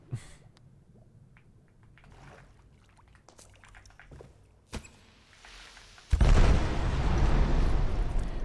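A creeper explodes inside a cave in modded Minecraft 1.20.1: after a quiet stretch of small clicks and scattered pops, a sudden loud, broadband blast erupts and roars on as a sustained, heavy rumble to the end.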